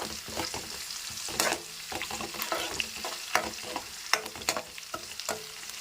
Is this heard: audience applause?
no